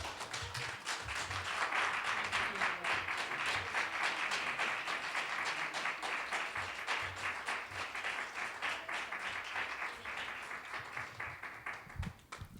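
An audience at the Lift Every Voice Lecture Series 2023 applauds Dr. Wes Bellamy after his lecture, a dense, steady wash of many hands clapping that runs continuously for about twelve seconds and eases slightly toward the end.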